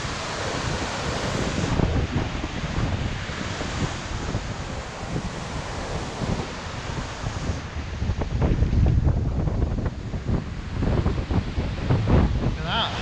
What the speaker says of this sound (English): the river is absolutely wild today